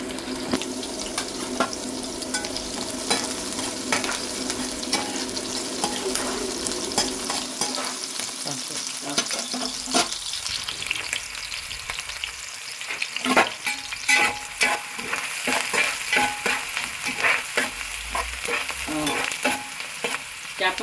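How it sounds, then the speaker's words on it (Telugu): Onions frying for a Pandugappa fish curry with methi leaves, a steady close sizzle with repeated stirring scrapes and clicks of the spoon against the pan. "చేపల్లోకి ఎప్పుడు కూడా ఉల్లిపాయలు బాగా ఫ్రై అవ్వాలండి"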